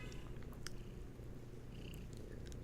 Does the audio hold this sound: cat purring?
yes